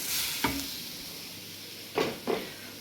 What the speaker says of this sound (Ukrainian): Тут я трошки обжарюю цибулинку та моркву.